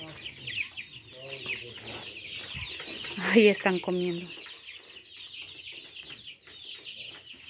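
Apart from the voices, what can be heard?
chicks clucking while eating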